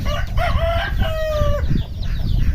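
Pet chickens cluck close by, and a rooster crows one loud drawn-out call over a dense background of other birds.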